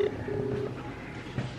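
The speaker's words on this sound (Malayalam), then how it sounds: "കോളിംഗ് ആണല്ലോ" Phone ringback tone on an outgoing video call, a short steady tone heard at moderate level over faint room noise; no talking.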